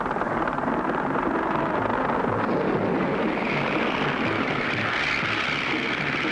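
A cartoon airplane flies on steadily, its propeller-style engine drone loud and continuous throughout with a slight swell toward the end, no voices heard.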